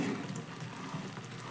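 Sugar syrup simmers in a pan over a medium gas flame, giving a soft, steady bubbling hiss throughout with no voices.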